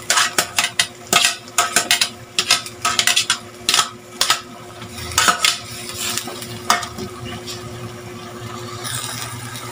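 Vegetables go into a pot of boiling water for a tuna dish, with a string of clanks, scrapes and utensil knocks against the pot, then a softer bubbling, sizzling wash.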